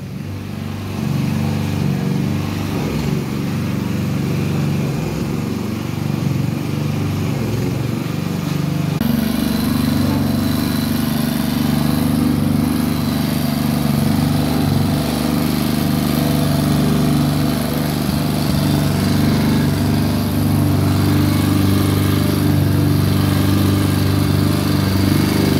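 A grass trimmer cuts grass in a garden, a steady loud engine drone running the whole time and growing fuller and louder partway through, with no talk.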